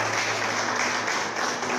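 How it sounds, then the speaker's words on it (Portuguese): Brief, loud applause from a church congregation clapping for Jesus during a Portuguese-language sermon on Revelation, a dense, continuous wash of many hands with no speech over it. "Uma salva de palmas para Jesus"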